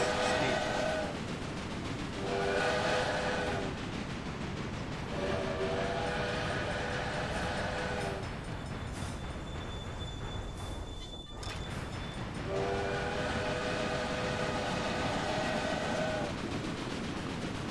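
A train running in the Railway Empire video game rumbles steadily, with long tonal horn-like blasts repeating roughly every few seconds over the continuous rolling noise.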